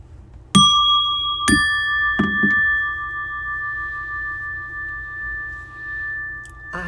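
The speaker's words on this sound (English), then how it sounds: "Ring some bells." Bells are struck several times, two bright clear strikes followed by softer quick hits, their ringing tones sustaining and slowly fading over a low background hum; no one speaks.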